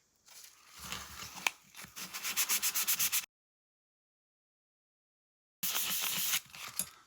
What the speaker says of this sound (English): Now I'm going down some 800 grit wet and dry paper.